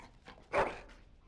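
Dog in the Dragon Age Origins video game giving a short whimpering yelp, a single brief faint canine sound standing alone with soft background noise.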